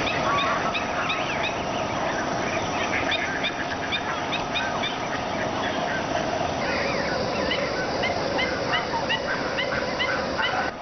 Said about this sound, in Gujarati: આ થળમાં યાયાવર પક્ષીઓને જોવાનો લહાવો અનેરો છે.